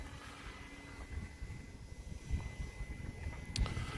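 A small RC plane drones faintly as it flies low overhead outdoors, its thin steady engine whine sitting over light wind noise and soft scattered bumps.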